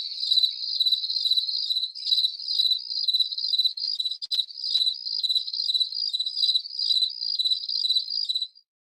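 A chorus of crickets chirps in steady, rapid pulsing bursts as a sound effect, continuous and fairly loud with no other sounds, then cuts off abruptly at the end.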